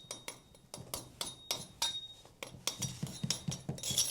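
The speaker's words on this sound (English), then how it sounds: "There we go, just doing a few little taps." A series of small, sharp, dry taps strikes a blown plaster wall, around a dozen in quick irregular succession, close by and fairly quiet with no talking.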